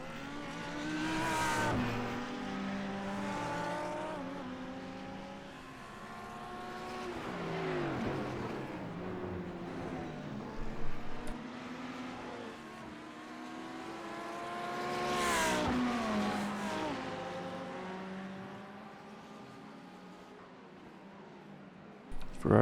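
GT3 race cars, Ferraris and an Audi, scream along at high revs with rising and falling engine notes through gear changes, loud and continuous for the whole stretch of racing.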